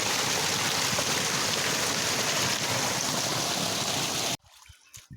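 Canal water on a steep hillside rushes in a steady, loud broadband flow for over four seconds, then cuts off abruptly to quiet ambience.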